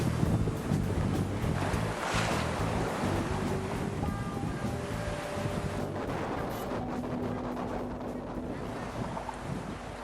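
A sailboat speeds across smooth sea in a northwest wind of over 20 knots, a short way off the coast; steady broadband rush of wind and water runs throughout, with heavy wind buffeting on the microphone.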